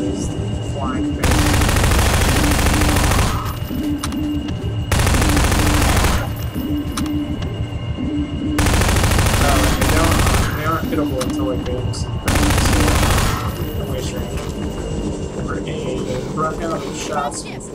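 Long, loud bursts of automatic fire in Half-Life 2 on Hard difficulty, repeating at steady intervals with softer shooting and game noise between them, and someone talking over the action.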